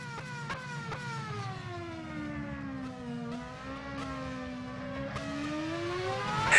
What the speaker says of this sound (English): So we have 3 cars out on track right now.